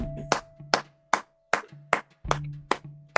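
Slow, deliberate hand claps in a podcast setting, about eight sharp, fairly loud claps spaced evenly over a few seconds, each ringing briefly against a low steady hum with no talking.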